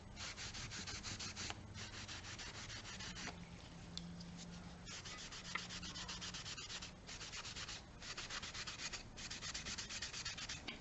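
A rag rubs gel stain glaze back over a painted wooden piece, a continuous close scrubbing in quick repeated strokes, with a short break now and then and no talking.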